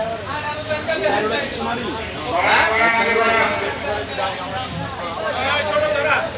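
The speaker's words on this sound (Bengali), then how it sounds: "পর্যাপ্ত ছাগল আছে দেখতে পাচ্ছেন" Goats bleat repeatedly amid a noisy Eid al-Adha livestock market in Old Dhaka, their wavering cries overlapping with a crowd murmur and nearby talking.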